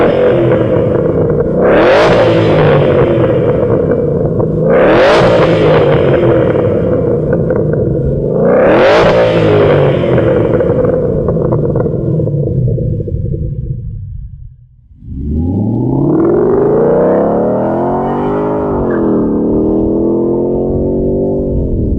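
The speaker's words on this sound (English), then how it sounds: "Let's get the car outside and check out some sound clips." A 2014 Mustang GT with an SVE GT500 quad-tip axle-back exhaust revs three times in loud rising bursts over a deep idle rumble, drops out briefly, then pulls away with a strong accelerating growl.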